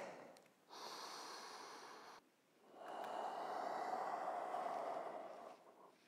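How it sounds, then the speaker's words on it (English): Slow, steady breathing during a yoga child's pose in an evening practice: a soft inhale followed by a longer, airy exhale, close and quiet, with no talking. "Taking 3 breaths."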